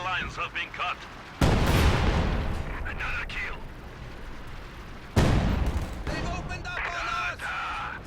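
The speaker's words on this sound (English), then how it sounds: "So SU-76 barraging on this point, hoping to catch these pioneers" An SU-76 artillery barrage in Company of Heroes 2: two heavy impact blasts land a few seconds apart, each rumbling loudly before fading, with a voice talking over the battle.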